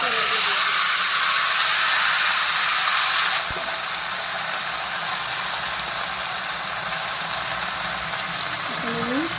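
Mixed vegetables for shukto hitting hot oil tempered with cumin and panch phoron, a loud, steady broadband sizzle and hiss that drops slightly in level partway through and continues without talk.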